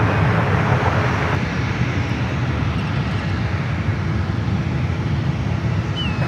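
A jet airliner landing on runway 28 left at San Francisco airport, a loud continuous engine roar held steady at fairly close range, with a faint whine at the end and no talk.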